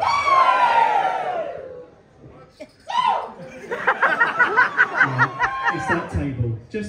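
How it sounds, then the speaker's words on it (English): A crowd at a Blackpool weekend event cheers and whoops, with a voice calling out first and then a swell of shouts, laughter and rhythmic cheering from a large group. "Just this section, give me a cheer."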